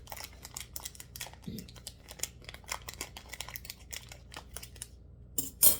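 Dry pinto beans pushed and scattered across a kitchen countertop, making close, faint rattling clicks and brief sliding rustles in irregular bursts, with a louder clatter at the end.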